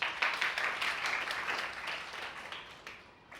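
Students in a school classroom clapping together during a history lesson, a burst of many hands that starts loud and gradually thins and fades out, with no talking over it.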